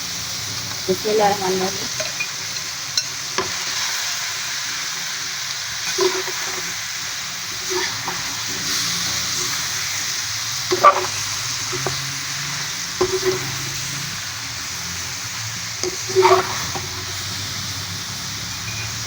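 Okra hits hot oil in a pan for a chicken bhindi masala, setting off a steady sizzle broken by repeated scrapes and clinks of stirring, with a brief spoken phrase early on.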